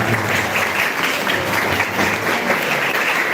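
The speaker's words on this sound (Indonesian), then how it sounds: "Oke, tepuk tangan untuk Mas Anam Irfani." A school audience at an Indonesian vocational school seminar gives the presenter a round of applause: a loud, dense, continuous wash of clapping from many people that holds steady without voices.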